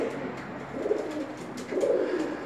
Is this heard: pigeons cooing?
yes